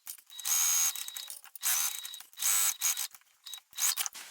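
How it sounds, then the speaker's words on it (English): Sewing machine stitching around the three remaining sides of a cosmetic bag's slip pocket, running in several close, buzzing bursts of rapid stitching separated by brief pauses, with no talking. "I'm going to sew around the other 3 sides."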